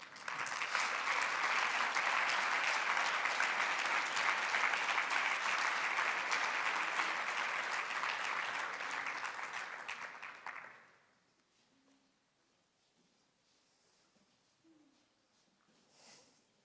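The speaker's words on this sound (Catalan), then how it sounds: "Fort aplaudiment per al millor mestre d'Espanya." Loud, dense applause from an audience at an education awards ceremony holds steady for about ten seconds, then drops away abruptly to near silence with a few faint scattered noises.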